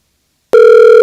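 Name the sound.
telephone voicemail tone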